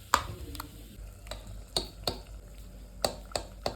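Tempering (tadka) sizzling in a small pot over a village clay stove as a spoon stirs it, with soft frying hiss under a series of sharp metallic scrapes and taps spaced irregularly, fairly quiet, no talk.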